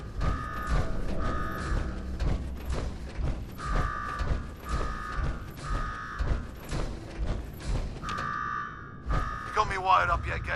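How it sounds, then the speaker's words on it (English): A blaring alarm in Fallout 4's Nuka-World sounds in repeated buzzing bursts, with mechanical clanking and rattling beneath. A voice speaks near the end. "Now go shut off that damn alarm"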